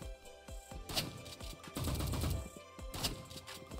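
Rapid bursts of gunfire in the Roblox game Rivals, shotgun blasts and impacts cracking in quick succession, loud and close with no talking.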